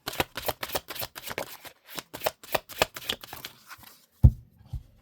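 Two split halves of a tarot deck are shuffled by hand, a close, crisp run of rapid riffling flutters ending in a soft tap as the cards settle.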